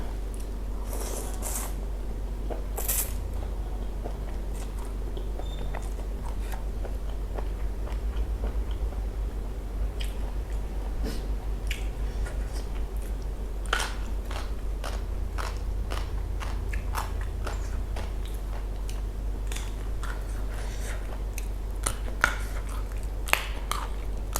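Close, crisp crunching and biting on a Thai mixed seafood papaya salad with fresh shrimp, squid and undercooked noodles, steady repeated crackles over a low constant hum, no talking.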